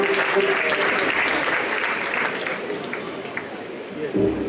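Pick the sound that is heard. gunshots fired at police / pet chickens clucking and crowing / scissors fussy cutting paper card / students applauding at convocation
students applauding at convocation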